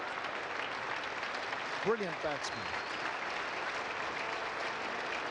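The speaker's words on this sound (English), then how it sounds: "Crowd acknowledging a wonderful mini performance from Tom Moody" Spectators at the WACA cricket ground in Perth applaud Tom Moody's batting during a 1990-91 Western Australia versus South Australia match, with steady, sustained clapping throughout and a commentator speaking briefly over it.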